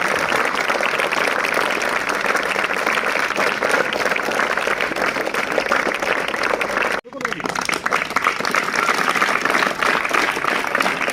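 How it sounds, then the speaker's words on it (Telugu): A crowd of party workers and hostel students claps together to greet Mohan Reddy on his birthday. The applause is loud and sustained, drops out for an instant, then swells straight back. "మీ అందరూ చప్పట్లతో మోహన్ అన్న గారికి జన్మదిన శుభాకాంక్షలు"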